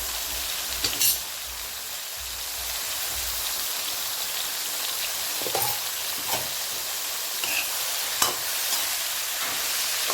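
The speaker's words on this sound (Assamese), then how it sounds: "এতিয়া কাটি লোৱা ভোলখিনি দি 5 মিনিটমান সময় ভাজি ল'ম।" Chopped gourd and onions fry in a pan with a steady, close sizzle and crackle throughout, broken by a few sharp utensil clicks. No one speaks.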